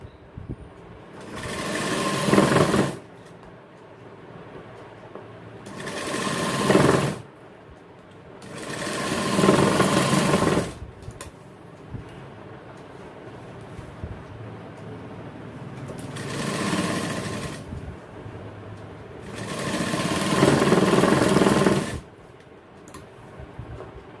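A sewing machine stitches the lining of a jacket in five separate loud runs of a few seconds each, with quiet pauses between them and no talking.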